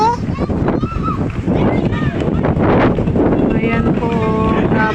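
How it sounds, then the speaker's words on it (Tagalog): Strong wind and big waves at sea, heard from aboard a boat: constant roaring wind buffets the microphone over crashing surf, while people talk and call out throughout. "Napakalakas po nung alon."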